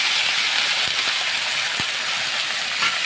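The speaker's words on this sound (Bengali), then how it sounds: "লঙ্কা ভাজা হয়ে গেছে, আমি একটু জল দিয়ে দিচ্ছি।" Water poured into a hot pan of fried chilies, giving a loud, continuous close-up steam hiss that holds steady throughout, with a few faint knocks underneath.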